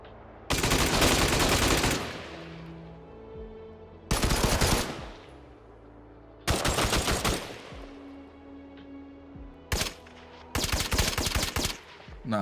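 Gold AK rifle fire in a video game, with several loud bursts of automatic gunfire separated by short pauses, each burst trailing off into a reverberant echo.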